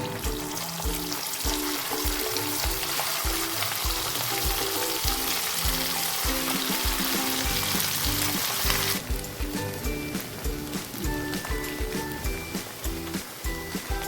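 Marinated chicken pieces for chilli chicken frying in hot oil, giving a loud, dense, continuous sizzle and bubbling crackle close up, with music playing in the background.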